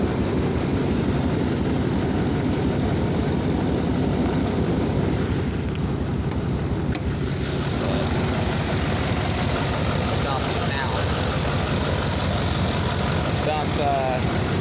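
A Dirtymax truck engine with a blowing head gasket idles roughly in a driveway, a loud, continuous, uneven rumble with a broadband rattle throughout.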